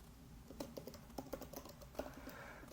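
An email address and password are typed on a computer keyboard, a short burst of quiet, irregular key clicks close by with no voices.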